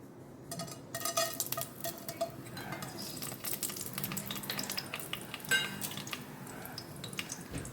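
Whole spices (star anise, a cinnamon piece, cardamom pods, cloves) crackling and sizzling in hot oil for chicken biryani, a steady close fry with scattered pops and faint utensil clinks.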